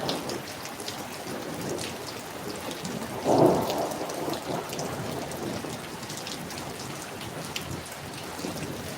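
Heavy rain pours steadily in a dense, continuous hiss, with a low rumble of thunder swelling midway before the downpour carries on alone.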